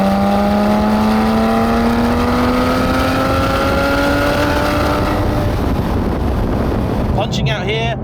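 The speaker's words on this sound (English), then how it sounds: "Those gear shifts are ridiculously quick, and that gearbox is mated to the fairly familiar 4-litre flat 6." A Porsche 911 GT3 RS (991.2) 4-litre flat-six engine revs hard toward 9,000 rpm with rising pitch, shifting quickly through gears, loud and close with wind buffeting the microphone.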